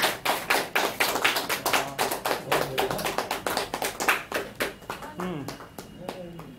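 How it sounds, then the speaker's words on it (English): A small group claps for a participant in a question-and-answer session, sharp distinct hand claps in a quick even rhythm that fades toward the end as talking takes over. "Give a huge round of applause for Akshita."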